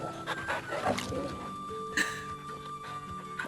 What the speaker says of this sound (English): we're gonna pet this puppy one more time